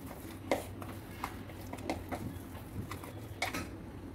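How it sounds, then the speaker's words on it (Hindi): Butter chicken masala with ginger-garlic paste being mixed in a bowl, faint scattered clinks and scrapes of a spoon against the bowl over a low background hum. "अब इस मसाले को हम अच्छे से मिक्स कर लेंगे।"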